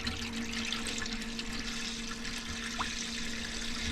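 Water runs from a motorhome tap in a steady, quiet hiss, a thin stream flowing continuously with a faint low hum underneath and no voices.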